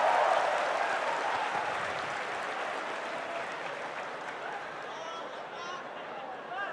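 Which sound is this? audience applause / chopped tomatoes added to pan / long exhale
audience applause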